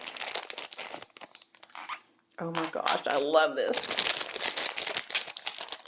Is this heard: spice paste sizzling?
no